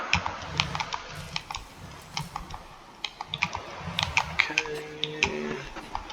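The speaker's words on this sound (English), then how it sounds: "not my keyboard, my controller clacking around now" Plastic game controller buttons clack in quick irregular bursts during Borderlands 3 play, close and fairly quiet, with a brief tonal game sound near the end.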